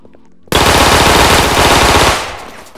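Loud, continuous rapid-fire automatic gunfire in a Roblox video game, a dense burst lasting about two seconds before cutting off.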